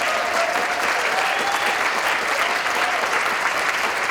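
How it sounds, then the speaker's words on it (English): An audience at a panel discussion event applauds the panelists with steady, dense clapping that holds loud and even for about four seconds, with no voices over it. "Please thank another round of applause for our panelists."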